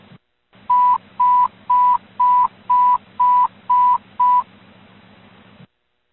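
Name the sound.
fire dispatch radio alert tones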